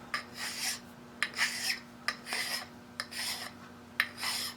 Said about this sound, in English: Radius and then polish that edge so it doesn't, it gouged in and didn't want to slide.